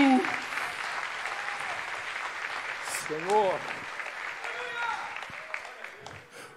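Church congregation applauding loudly during an evening sermon, a sustained wash of clapping that runs the whole stretch while a preacher's voice carries over it.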